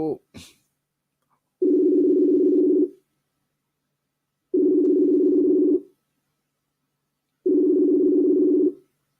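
A phone call's ringing tone repeats three times, long even buzzing pulses separated by silence, after a brief clatter at the start.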